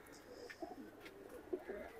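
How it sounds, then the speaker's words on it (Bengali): Two Silver Pankhi pigeons coo softly in a few short, repeated calls, quiet and close, with low background noise. "অ্যাক্টিভ কবুতর দেখেন, ডাকাডাকি করতেছে।"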